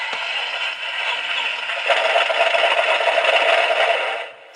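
A Heng Long Tiger I radio-controlled model tank starts up with a loud, steady mechanical rattle and whirring drone that swells midway and cuts off near the end, close by, with no voices.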